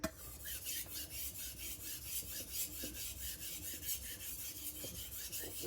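A Tojiro kiritsuke knife blade is stroked back and forth across a Naniwa diamond sharpening stone, making rapid, rhythmic rasping scrapes in a close, quiet setting.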